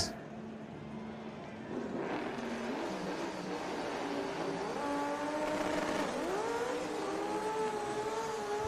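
A stick-shift race car at Bradenton, Florida, howls as it accelerates along the racetrack, its engine note climbing and dropping through gear changes under a continuous loud roar.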